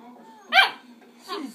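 A dog gives two short close vocal bursts, a yelping bark followed by a lower grumbling whine, separated by a brief pause over a quiet background hum.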